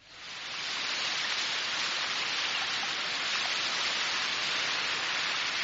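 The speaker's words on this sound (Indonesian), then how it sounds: "Hujan ini akan segera reda." Steady rain falls in a cartoon scene, a dense even hiss that builds in over the first half second and then holds loud and unbroken, with no voices over it.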